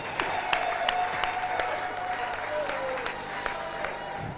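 A church congregation at a celebration of a reverend's seventieth birthday applauds steadily, many hands clapping in a continuous crowd wash, with a voice speaking over it.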